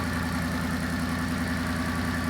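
A supercharged 5-litre car engine with a 2.3-litre supercharger mounted on top idles steadily, a loud, close, continuous rumble with a throbbing low pulse and no talk over it.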